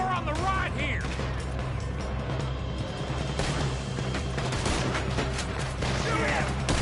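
Red Dead Redemption 2 shootout against security men: dense, overlapping gunshots crackle throughout, loud and continuous, under shouted character dialogue and a steady low background rumble.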